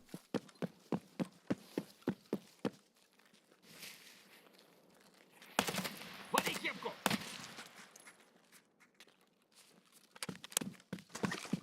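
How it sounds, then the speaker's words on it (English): A rapid, evenly spaced string of about a dozen sharp single shots from a weapon in Escape From Tarkov, followed by noisier stretches of action sound with a few more bursts later, with a voice talking in the background. "Perfect shooting there."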